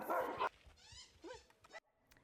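Dogs at an animal rescue: a loud bark up close, then whimpers and yelps trailing off in the kennel.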